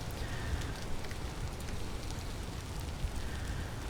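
Steady rain in a windswept, rain-blistered land in a video game, a dense, even patter with a low rumble beneath, continuous and fairly close throughout.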